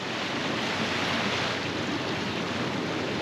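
Atlantic Ocean waves roll onto a beach in a steady, broad wash of surf with some wind noise on the microphone, continuous and fairly faint, with no voices.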